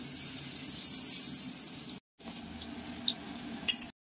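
Crushed garlic and dried red chillies crackle in hot tempering oil for boiled dal, a loud continuous sizzle cut by two abrupt silent breaks, with small pops near the end.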